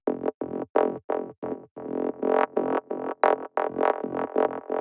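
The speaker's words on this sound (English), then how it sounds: "The next sound that we have here is this little analog growl thing," Analog synth growl layer from an ambient techno track, a gritty distorted tone played in short rhythmic stabs of varying length, loud and alone with no voices.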